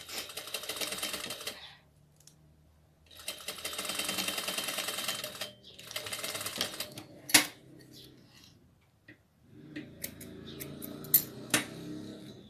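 Domestic sewing machine running in several bursts as it stitches a doll dress seam, a steady close whirring rattle that stops and restarts, with small handling clicks and knocks between runs.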